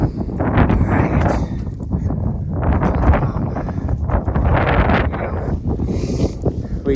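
Strong wind buffets the microphone on a cold, foggy mountain hike along the Tour du Mont Blanc, a loud, gusting rumble that swells and eases continuously and holds no clear speech.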